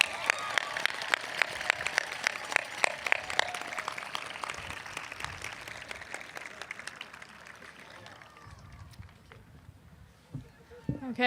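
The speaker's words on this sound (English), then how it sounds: "Let's give them a round of applause." A high school graduation crowd applauds in a strong, dense burst that gradually tapers off over several seconds, dying down to near quiet with a few last sounds at the end.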